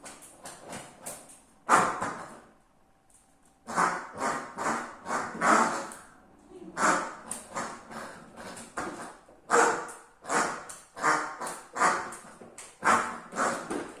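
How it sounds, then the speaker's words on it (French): A cartoon dog in Animal Crossing: New Horizons yaps in quick repeated bursts while playing, a steady run of short, sharp, close barks separated by brief pauses. "La joie d'avoir un chien qui aime jouer"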